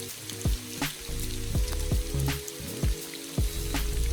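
Rain patters through a wooded mountain trail on Tsushima during a hike, a steady close shower with scattered drips and brief louder splashes or knocks recurring every half second or so.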